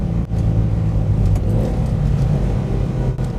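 A 1972 Toyota Celica's engine drones and revs under load while driving through corners, a loud, steady low rumble with slight rises in pitch and a brief dip as it works hard.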